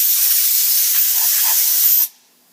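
Lubricant spray hisses steadily onto a CNC mill machining an aluminum gusset, one continuous loud burst of about two seconds that cuts off abruptly into near silence.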